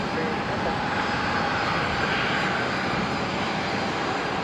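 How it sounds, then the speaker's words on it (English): Embraer jet engines from an Alliance aircraft pushing back at Brisbane airport, a loud steady broadband roar that fills the whole stretch without letting up, with faint talk mixed in. "Alliance Embraer, just pushing back from domestic."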